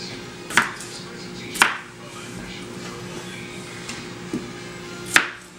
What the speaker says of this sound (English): Just a real simple chop.